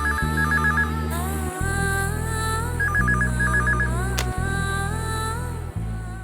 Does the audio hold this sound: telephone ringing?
yes